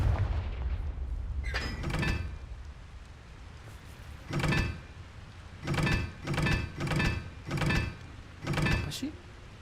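Confringo, a fire-blast combat spell in the video game Hogwarts Legacy, goes off as a series of sharp, heavy booming blasts, one near two seconds, then a cluster of five or six quick bursts in a row over a low rumbling backdrop.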